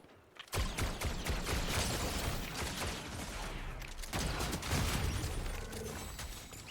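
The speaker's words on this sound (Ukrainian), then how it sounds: "Згори хтось стріляє." Gunfire rattles through a Fortnite duo match, with dense bursts of shots coming fast over each other, a short break, then another sustained barrage.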